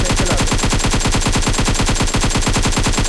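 Rapid, sustained automatic gunfire from a heavy weapon in PUBG Mobile, loud and close, with evenly spaced bursts repeating without a break.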